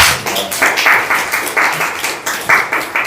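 Applause from the audience at a Busan citizens' forum welcoming the next speaker, a crowd clapping in uneven surges, with several louder swells and fades, close and fairly loud.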